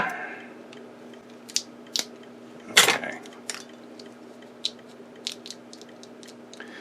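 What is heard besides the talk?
scissors cutting split loom tubing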